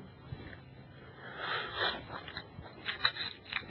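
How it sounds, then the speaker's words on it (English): Wet slurping and mouth noises while a piece of pineapple is placed under the top lip, close and intermittent, with soft smacking and sucking bursts. "Excuse the slurping noises."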